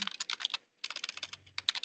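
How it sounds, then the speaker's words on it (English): Rapid, furious typing on a computer keyboard, a dense run of close key clicks with a brief pause midway. "furiously typing"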